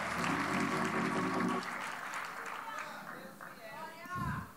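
Worshippers at a church Holy Supper service clap together, a dense burst of applause for about a second and a half that then thins out as a voice carries on over it.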